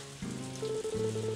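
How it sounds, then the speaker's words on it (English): Rain in the video game Story of Seasons: A Wonderful Life, a soft steady patter that sits under game music tones, continuous and close through the whole short stretch. "Rain is a blessing, man."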